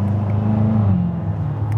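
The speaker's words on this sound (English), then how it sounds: "when you put it into manual mode and you use the paddle shifts and you downshift" A 2016 Chevrolet Corvette Stingray convertible with a 6.2 liter V8 downshifts via paddle shifters, a loud close engine drone whose pitch steps and shifts as the revs change, no talk over it.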